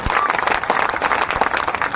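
A crowd at a political rally in Patna claps in a brief, dense burst of applause with scattered sharp hand claps.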